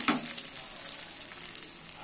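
Food sizzling in hot oil in a pan, a steady bright crackle and hiss with small pops, close and continuous, with no talk.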